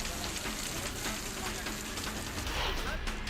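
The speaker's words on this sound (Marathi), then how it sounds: "पैठणमध्ये अवकाळी पावसानं हजेरी लावली." Unseasonal rain falling in Paithan makes a dense, steady hiss that stays loud and even, with a slight swell near the end.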